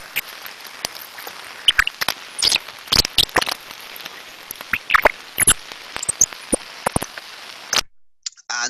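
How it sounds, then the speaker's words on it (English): Ultrasound of a bearing lacking lubrication and suffering physical damage produces sparse, sharp chirps and clicks over a faint hiss, squeaky bursts scattered irregularly at close range, with no talk, fading to near silence at the end. "Those sort of sounds we can hear there is a lack of lubrication, physical damage occurring"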